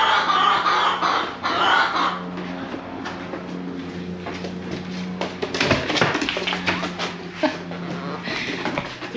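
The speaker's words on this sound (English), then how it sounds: "quit tormenting the chickens." Chickens cluck close by, with busy overlapping clucks and squawks over a steady background hum.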